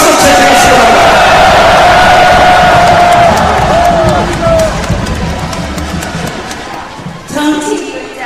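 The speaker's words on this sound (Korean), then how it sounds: "여러분 제 말씀 동의하시면 박수로 채택해 주시기 바랍니다." A large audience at a party founding convention in an indoor arena claps and cheers together as a proposal is adopted, a loud dense crowd roar with some shouts that fades toward the end.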